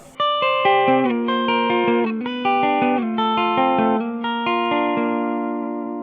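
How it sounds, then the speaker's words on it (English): Electric guitar played clean through its middle pickup, a bright, pokey tone: a sequence of plucked single notes and chords ringing out with reverb and echo, the last chord sustaining and slowly fading. "it has a very nice pokey sounding middle pickup"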